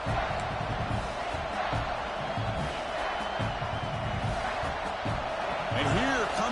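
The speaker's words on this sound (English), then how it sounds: "This crowd is trying to inspire this defense to make a big red zone stop." A large stadium crowd in a College Football 26 video game, Michigan vs Ohio State, roars continuously, loud and dense, with an announcer's voice talking over the din.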